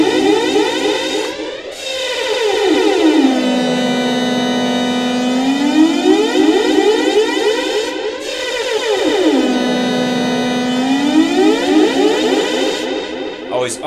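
An Atari Punk Console lo-fi synth run through a PT2399 analog delay kit gives a loud, buzzy, siren-like tone whose pitch sweeps down and back up in slow arcs, smeared by repeating echoes.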